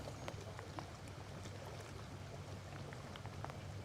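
Rain patters lightly and steadily around a boat on a bass fishing trip, with scattered faint drops ticking over a low background hum.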